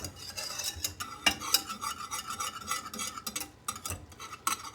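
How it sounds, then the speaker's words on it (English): Continuous scraping and stirring of thickening German chocolate cake icing in a pot, with repeated metallic scrapes of a utensil against the bottom and a faint sizzle beneath. "Sorry about the scraping sound, but I've got to keep that mixture from sticking."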